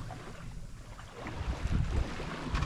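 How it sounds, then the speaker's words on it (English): A sailboat tacking into the wind on Loch Harport, carrying a steady rush of wind and water with soft hull and rigging noise. It is faint and continuous, with no talk. "Currently tacking because we have to go into the wind."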